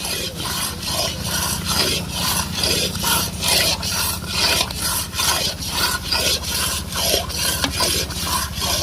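A carrot halwa mixture is stirred in a pan, the spoon scraping the bottom in steady, rhythmic strokes. The rasping is close and even throughout, with no talking.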